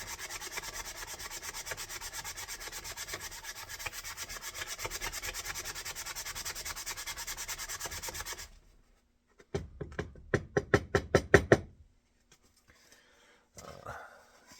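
Sandpaper scrubs steadily over a carved basswood bowl to knock off charring, a continuous dry rasp for about eight seconds, then a short burst of sharp wooden taps and scrapes, and a brief rub near the end.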